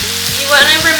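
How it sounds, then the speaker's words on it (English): Sausage with onion and fennel sizzling in a pan, a loud, close, steady crackle and hiss of frying with faint stirring, no talk over it. "So I'm going to cook this until the onion is a little bit translucent."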